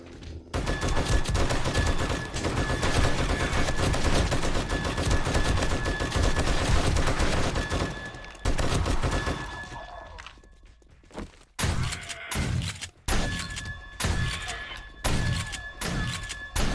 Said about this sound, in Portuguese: Ainda tá pegando alguns tiros ali.